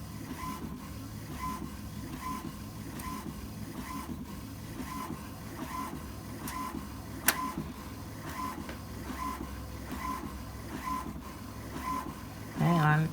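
An HP SmartTank 7001 inkjet printer prints a page on best quality with a steady mechanical whir. A rhythmic carriage shuttle repeats back and forth, and it ends with a brief louder feed noise, all fairly faint and without speech.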